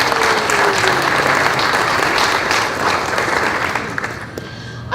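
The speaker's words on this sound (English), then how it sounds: "Big round of applause." Loud, sustained applause from an outdoor crowd at a pavilion ribbon-cutting ceremony, steady clapping that thins slightly toward the end.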